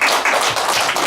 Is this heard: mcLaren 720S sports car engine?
no